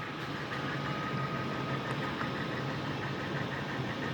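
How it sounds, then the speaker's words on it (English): A 2004 Lincoln Navigator SUV engine idles with a steady, low rumble continuously at moderate distance, even and unbroken, with no voices. "Listen to that engine. Sounds brand new."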